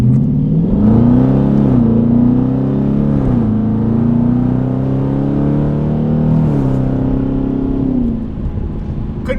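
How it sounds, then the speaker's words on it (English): A Dodge Challenger RT accelerates hard in a 0 to 60 run: a loud, close engine roar climbs in pitch through several gear shifts, dropping briefly at each change before rising again. "as soon as we come out of this corner, I'm gonna have to do the 0 to 60 run"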